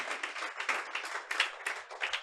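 A church congregation at a Spanish-language service applauds, a brief, moderately close patter of many hands clapping in uneven bursts.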